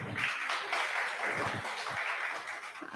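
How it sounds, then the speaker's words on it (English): An audience applauding steadily for a few seconds after a talk at a healthcare AI event, dense overlapping claps at moderate volume with no voices over it. "Can we all give him a round of applause again?"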